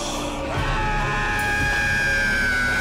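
A scream from the film Predator 2 rises as a loud, sustained, wavering wail over a dense, rumbling movie soundtrack, filling the whole moment without pause.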